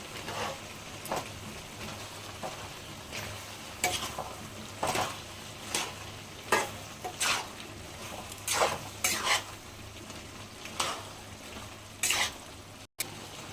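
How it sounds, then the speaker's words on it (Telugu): A cucumber and tomato chicken curry is stirred in a pan, with repeated scraping strokes of a spoon against the metal over a low, steady sizzle, close up and with no talking. "ఇప్పుడు మనం మొత్తం ఇలా కలిపేసుకున్నాం కదండి."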